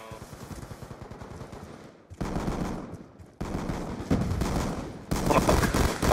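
Pistol gunfire in Call of Duty on the Nuketown map, a free-for-all match: dense, rapid shots running together into sustained bursts of loud crackling, swelling in a few surges.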